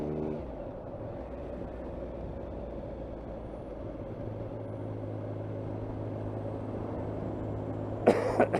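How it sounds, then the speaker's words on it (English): A short cough from someone with a lingering cold sounds near the end over a steady low engine rumble inside a car on a morning commute. "I cannot get rid of this cough."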